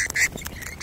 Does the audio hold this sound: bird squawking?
yes